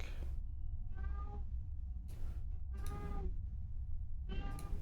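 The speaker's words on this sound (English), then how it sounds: "Jitsia, I can hear her meowing." A house cat meows repeatedly indoors, several drawn-out calls spaced over a few seconds against a steady low background hum, fairly close and with no talk.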